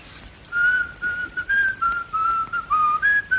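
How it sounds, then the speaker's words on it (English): A man whistles a tune in short, clear phrases, loud and close with pauses between them, alone with no talking. "a scrap of music whistled in the night"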